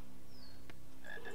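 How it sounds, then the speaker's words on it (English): A frog croaks once in the Harry Potter and the Philosopher's Stone PC video game, a short clear croak with a faint chirp before it over steady game ambience. "There's a frog up there."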